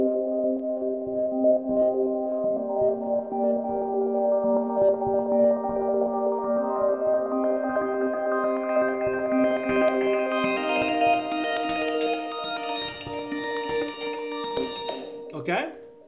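A sustained synth chord with an automated filter sweep opens steadily upward into a brighter sound, bathed in added reverb in Logic Pro, ending in a sharp click as the automation resets.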